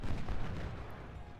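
Booming cannon fire from a small battery of three 10-pounder guns in an Ultimate General Civil War battle at Seminary Ridge, Gettysburg, rolling and continuous at moderate loudness with no talk.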